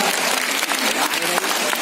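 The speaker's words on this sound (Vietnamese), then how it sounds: "chúng ta dành một tràng pháo tay" Audience applause at an educational orchestral concert featuring a Vivaldi double violin concerto, a dense, continuous burst of clapping filling the whole short stretch.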